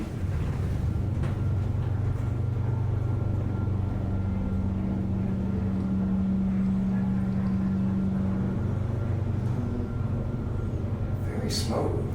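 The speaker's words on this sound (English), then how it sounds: "This is the elevator at Belk, Old Montgomery. It just got fixed. Let's listen to it." A newly repaired Montgomery glass elevator at a Belk store runs with a low steady motor hum and a rising tonal whine mid-ride, heard close with faint rumble and a brief clunk near the end.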